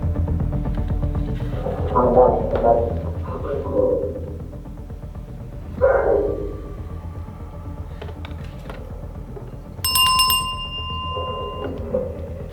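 A short, bright bell-like ring sounds once near the end, amid quiet talking and a low background hum.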